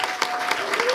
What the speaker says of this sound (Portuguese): Vamos aplaudir a equipe de vídeo, que o pessoal brilhou.